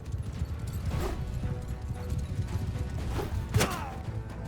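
Hooves of a horse galloping in a video game, a steady rapid clip-clop drumming under a busy mix of game noise, with a couple of sharper thuds near the end.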